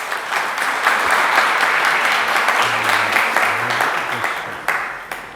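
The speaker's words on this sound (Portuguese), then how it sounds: "Vamos aplaudir a palavra do Senhor." A church congregation at a Catholic Lenten retreat claps together, dense steady applause filling the room for several seconds before tapering off, with a few voices faintly underneath.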